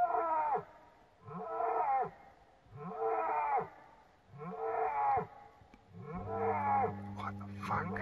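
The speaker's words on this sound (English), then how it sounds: "That's a cow, but what's happening to it?" A cow at an abandoned farm at night gives five long, drawn-out moos or growling calls in a steady rhythm, moderately near, with a brief low hum entering near the end.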